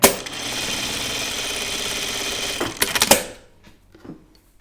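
A sewing machine stitching fabric for a caftan dress runs in a fast, steady mechanical chatter for a few seconds, then stops with a couple of clunks and quiet handling noises.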